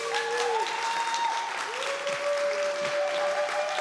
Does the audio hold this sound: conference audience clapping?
yes